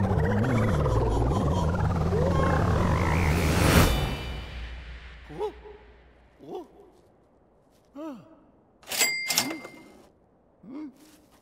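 Voiced frog croaks in a Super Mario Odyssey parody game: a few spaced, short throaty ribbit-like calls, apparently a voice imitating a frog, following a stretch of busy game sound that cuts off abruptly.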